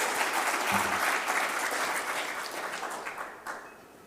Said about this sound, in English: So I'd like to give you a second round of applause